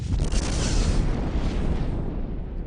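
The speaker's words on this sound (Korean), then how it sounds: "오전 5시 29분 고성능 폭약 2만 톤과 맞먹는 위력의 원자폭탄이 세계 최초로 폭발합니다" The first atomic bomb, equal to 20,000 tons of high explosive, detonates at the Trinity test site in the New Mexico desert: a deep, sustained roaring rumble, loud and broad, slowly thinning toward the end, with no voices.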